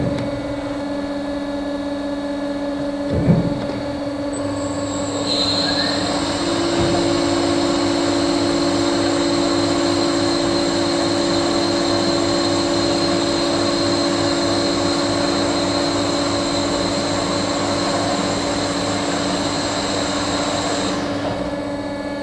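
An ARG 500 Plus semi-automatic double miter band saw cuts square bar into 200 mm pieces. A sharp clunk comes early, then the motor settles into a long, steady humming drone with a thin high whine, ending abruptly.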